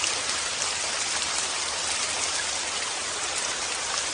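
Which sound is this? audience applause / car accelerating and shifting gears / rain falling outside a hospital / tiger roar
rain falling outside a hospital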